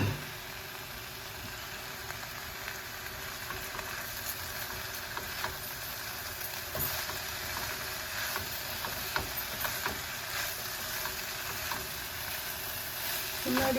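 Tomatoes frying in a pan on a home stove, a steady close sizzle with occasional light clicks and stirring scrapes, continuing alone without talk.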